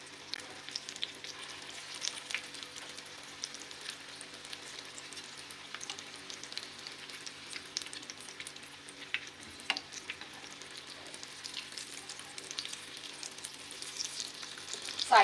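Chicken nuggets frying in a pan over a low flame give a steady, close sizzle with soft crackling pops throughout and no voices.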